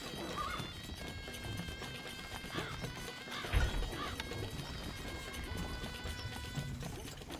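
A horse galloping in the video game Stronghold: Crusader, with rapid hoof clip-clops and a whinny over busy in-game sounds and music at moderate level.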